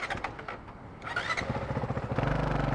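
A motorcycle is started on its electric starter: a brief cranking whir, then the engine catches and settles into a loud, close, throbbing idle with rapid regular pulses.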